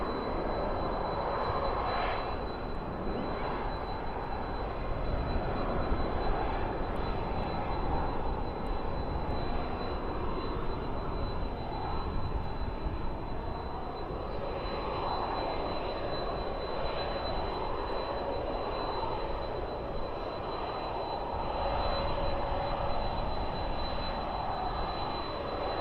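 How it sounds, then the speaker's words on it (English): American Airlines Airbus A319 jet departing Dallas/Fort Worth airport at night: a sustained engine roar holds steady and broad throughout, heard from a distance with a thin high whine, with no talking heard over it. "we have another departure, which is American Airlines Flight 1555 going to Grand Rapids. It is an Airbus A319."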